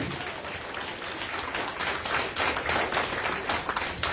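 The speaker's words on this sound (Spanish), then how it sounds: "Denle un aplauso al Señor esta mañana." A church congregation applauds during a Spanish-language service, producing a steady wash of many hands clapping together, fairly close and sustained throughout with no speech over it.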